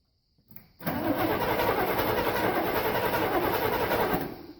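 A 1968 Chevy 396 big block engine cranks over continuously for several seconds, loud and close, without catching.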